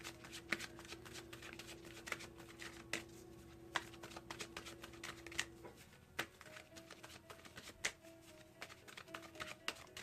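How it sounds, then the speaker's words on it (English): Wisdom of the Oracle cards being shuffled close by, a quiet, continuous riffle of soft card slaps and flicks with a faint steady hum underneath and no voices. "This is Colette Baron Reed's Wisdom of the Oracle cards."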